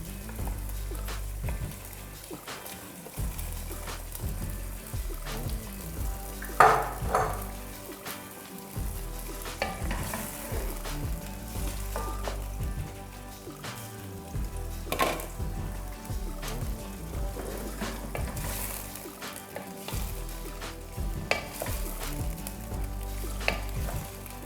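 Meat sizzling steadily in a pot of okra soup with stockfish, a close, continuous hiss broken by occasional stirring scrapes and clanks, with no talking.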